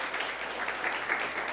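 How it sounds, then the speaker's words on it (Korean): Congregation applause at a Christmas worship service in a Korean church in Houston: a steady, dense wash of many hands clapping that holds evenly throughout, at moderate distance with no talk over it. "다시 한번 큰 박수 한번 올려드리면 감사하겠습니다."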